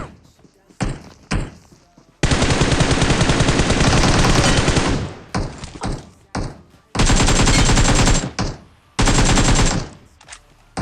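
Gunfire in PUBG Mobile: long sustained bursts of rapid automatic fire alternating with shorter volleys and brief gaps, loud and close, with a player's voice speaking between the shots.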